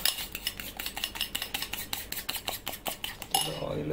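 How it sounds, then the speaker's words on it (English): A whisk rattles briskly against a bowl, mixing salted refined flour into a coating batter for crumb-fried prawns, with a fast steady run of close metallic clinks and a duller scrape near the end. "Whisking this, there should not be any lumps"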